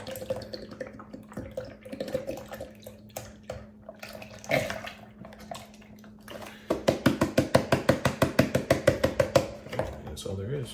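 A whole carton of pure almond milk is poured into a container, a close glugging stream that turns into rapid rhythmic gulps as the carton empties.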